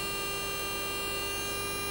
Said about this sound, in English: around the 200 millimeter mark we have a difference in the tone on the timer